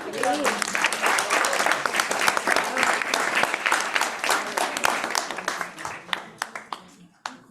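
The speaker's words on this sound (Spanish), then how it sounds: "Un aplauso para Simón." An audience applauds a speaker at an alumni talk on Cannes Young Lions, a dense burst of clapping that thins into scattered final claps before fading out.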